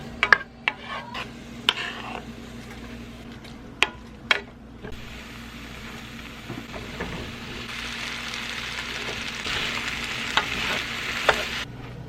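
Leftover potatoes and tomato paste sizzle and fry steadily in a pan for dinner, with stirring and sharp clicks of a utensil against the cookware scattered throughout; the sizzle swells louder toward the end, and no one speaks.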